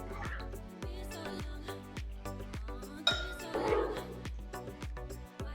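Freshly fried paneer cubes for a Kerala-style paneer roast are lifted into another vessel, with a steady run of sharp metallic clinks and taps against the dishes over a faint musical background.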